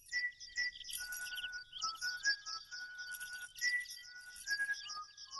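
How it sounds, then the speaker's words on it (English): A cartoon bird in Toyland whistles a bright, chirpy melody of repeated high notes and trills, clear and fairly close, with no talking over it. "that bird whistled my song"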